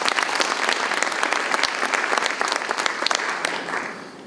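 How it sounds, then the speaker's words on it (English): Audience applause at the 2024 City of Romulus State of the City Address: a steady, dense wash of many hands clapping, sustained and fairly loud throughout, tapering slightly near the end. "Give him a round of applause for that."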